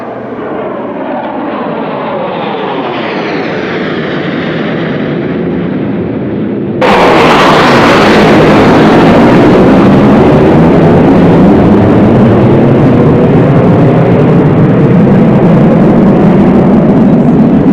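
F-16 fighter jets passing over a memorial service, a steady distant roar that suddenly swells into a loud, full-band blast of jet noise sustained for the rest of the flyover.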